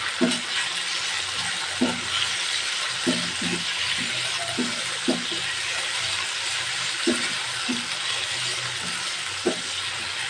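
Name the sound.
ginger garlic paste frying lightly in a pan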